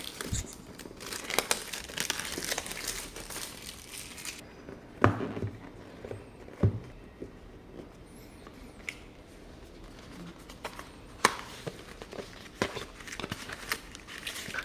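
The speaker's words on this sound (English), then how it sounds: "Now let's unbox the Xiaomi 15T Pro." Packaging crinkles and rustles while a Xiaomi 15T Pro phone is unboxed, with close crumpling and occasional sharp tearing or snapping sounds spread over the whole stretch, and no speech.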